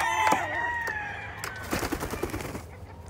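Roosters crow in a gamecock yard holding about two thousand birds, several overlapping cock-a-doodle-doo calls rising and falling, some near and some farther off, with sharp clucks and knocks scattered through.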